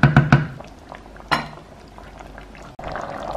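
Pot of rice and lentils simmering on a home stove, with a few clinks of a utensil against the pot at the start, then a steady bubbling hiss punctuated by another clink.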